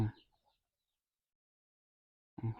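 Two short, low clucks from a nearby chicken, one at the start and one at the end, with quiet in between.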